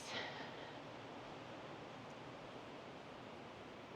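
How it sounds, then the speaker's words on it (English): A river flows steadily near a campground, a constant broadband rush with no talk, even and moderately distant throughout. "You can still hear the river and see it."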